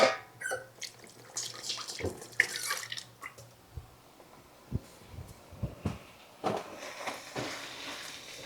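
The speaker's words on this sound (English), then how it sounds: "I'll throw this away and wash my hands again." Hands being washed under a running kitchen sink faucet, close splashing water with irregular bursts and drips, quieter stretches between, and louder running water near the end.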